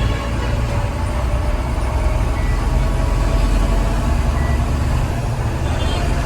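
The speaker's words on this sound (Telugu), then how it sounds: "ఫుల్ ట్రాఫిక్ ఉంది" Dense, heavy road traffic with trucks and buses rumbling close by, a steady loud low roar with reversing beeps sounding faintly through the din.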